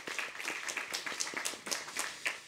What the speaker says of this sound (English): with a small round of applause